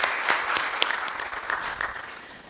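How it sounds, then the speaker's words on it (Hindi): Audience applause for poets at a poetry recital, a steady dense patter of clapping that fades slightly toward the end, with no voices over it. "प्रभात के कवियों के नाम जोरदार तालियों का इनाम"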